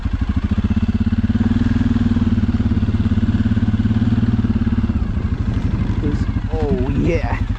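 Suzuki KingQuad ATV running in deep snow during a snowstorm, its engine throbbing in a steady low pulse at light throttle, close and loud, with a voice breaking in near the end.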